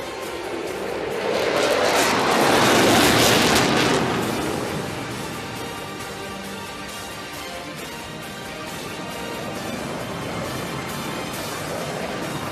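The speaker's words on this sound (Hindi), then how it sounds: "सोलो तुर्क इस वक्त आपके सामने लूप का मुजाहिरा पेश कर रहा है" A Solo Türk jet flies a loop at an air show over a parade ground, a broad, rumbling roar swelling loud then easing to a steady distant drone.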